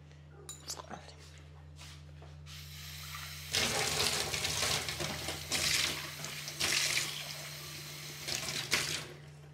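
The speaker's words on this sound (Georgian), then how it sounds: "წყალი." Water runs from a kitchen tap, starting after a few seconds of quiet room noise with a steady low hum, then pouring in strong surging bursts that swell and ease, close and fairly loud.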